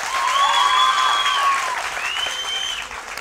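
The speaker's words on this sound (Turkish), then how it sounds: "Orkestraya bir alkış alabilir miyim?" A studio audience at a live Turkish TV music show applauds the orchestra with loud, sustained clapping that tapers off toward the end, while whistle-like tones ring through it.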